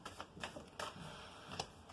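Quick, crisp riffling of tarot cards in a few short bursts, close by and fairly quiet, with no talking.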